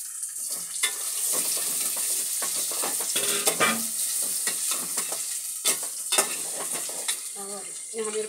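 Potatoes tossed into a pan for a mixed vegetable curry fry with a steady, close sizzle, broken by repeated sharp scrapes and clinks of a spatula stirring against the metal.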